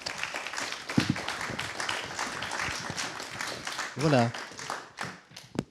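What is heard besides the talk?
applause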